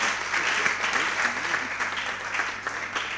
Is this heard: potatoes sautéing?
no